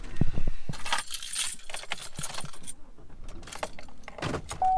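Keys jangle close by as someone climbs into a pickup truck on a rice farm, with several bright metallic rattles and soft thumps that come and go over a few seconds.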